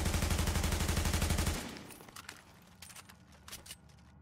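Rapid automatic bursts from the Tactical AUG A3P submachine gun in The Division, a loud, fast stream of shots for about a second and a half, then scattered fainter impacts and clicks.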